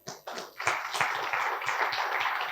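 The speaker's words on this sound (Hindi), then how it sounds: "देखो आप लोग ताली भी अच्छे से नहीं बजा रहे हो." A seated audience at a motivational talk claps, starting with a few scattered hands and quickly swelling into steady, fairly loud applause that keeps going to the end.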